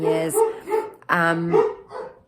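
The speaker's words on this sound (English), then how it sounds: "Sorry, my dogs are on one." Dogs bark and yip excitedly indoors, several short harmonic barks close to the mic, with a person speaking in between.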